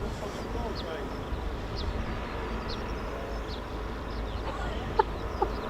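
A pre-recorded bird scarer call plays at an RAF Coningsby airshow, a series of faint, evenly spaced chirps over a broad crowd and outdoor background hum.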